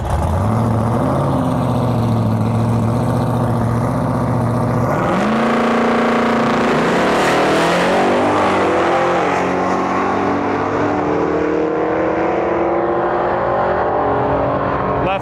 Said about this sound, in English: we've got a Bel Air pulling up right now